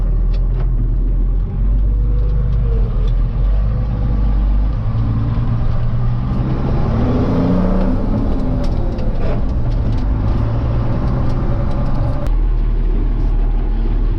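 A Fortschritt ZT323 tractor drives along, its engine a loud steady low rumble that holds throughout, rising a little in the middle before settling.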